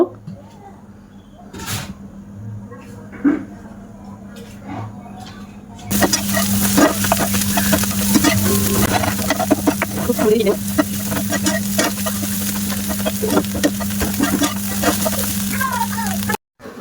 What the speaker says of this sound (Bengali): এবার যে চাউমিনটা ছিল ওই চাউমিনটা দিয়ে দিলাম, দিয়ে একটু বেশ হালকা নাড়াচাড়া করে নেব